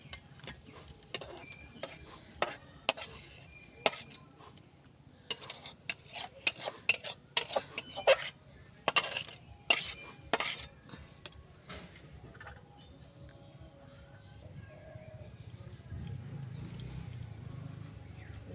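Cooked chickpea greens scraped and tipped from a pan with metal utensils, giving a run of sharp clinks and scrapes at irregular intervals, close and fairly quiet, that fade into a low background hum.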